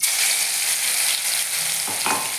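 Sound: crushed onion and garlic frying in oil

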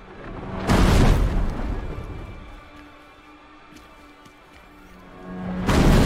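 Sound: sonic boom in video game

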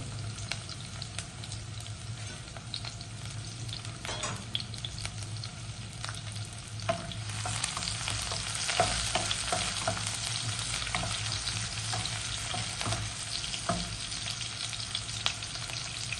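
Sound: sautéing chopped shallots in a pan for Chettinad quail pepper fry

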